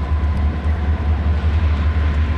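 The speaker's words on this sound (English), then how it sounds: "I'm guessing he's slowing down because he looks like a pretty big train." A Norfolk Southern intermodal freight train slowing at the summit in Cresson, Pennsylvania, a loud steady low rumble and hum from close by, with no talking.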